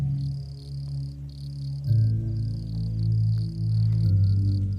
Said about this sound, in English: the ever-increasing chorus of crickets